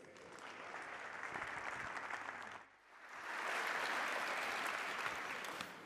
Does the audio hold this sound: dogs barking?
no